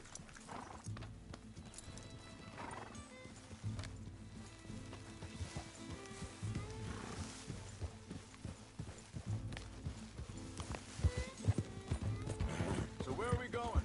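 Horse hooves clip-clop steadily in the Western video game Red Dead Redemption 2, running under music and character dialogue throughout, with the rhythmic hoofbeats growing a little louder toward the end.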